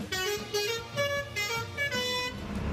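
A Basuri-style telolet bus horn plays its rhythmic, musical honking pattern, several loud tuneful toots repeating in quick succession, close and dominant.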